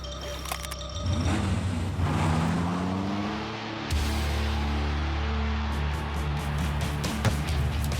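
A cartoon car tearing along at speed, engine revving and whining in rising and falling pitches with a loud, steady roar, a sharp clunk partway through, and a busy background of effects.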